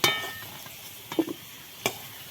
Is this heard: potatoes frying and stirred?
yes